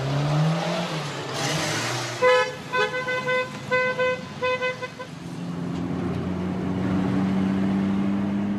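A meticulously renovated blue Renault R5 sounds a quick run of horn toots in the middle, then its engine settles into a steady, close running drone.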